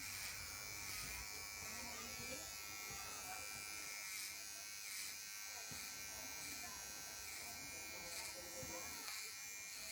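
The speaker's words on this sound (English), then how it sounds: "So this is the performance of this trimmer." A VGR 082 electric hair trimmer with its stock blade buzzes steadily at close range, a constant high whine that stays unchanged from start to end.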